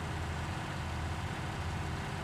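Tractor pulling a trailer in Farming Simulator 19, about 14.5 tons combined and running in two-wheel drive, with a steady low engine drone humming at constant volume throughout, no voices over it.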